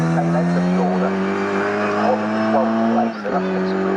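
Classic race cars from the CSCC Swinging Sixties Group 1 field, including an MGB GT, roar around Snetterton circuit in a loud, steady engine drone with a brief dip near the end, while a commentator talks over it.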